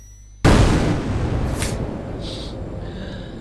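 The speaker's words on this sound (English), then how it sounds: "It's just an off-guard explosion, there's nothing to worry about it." A sudden loud explosion in the puzzle game It Is Ticking bursts out after a brief quiet moment, then its rumbling tail fades slowly, with a couple of short hissing bursts following.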